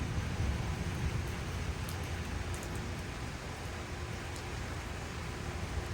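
Steady rain falls outdoors as an even, broadband hiss that stays constant throughout, with faint occasional drips and no voices.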